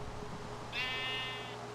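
A Minecraft sheep gives a single bleat in the video game, a clear wavering cry lasting under a second over a low steady background hum.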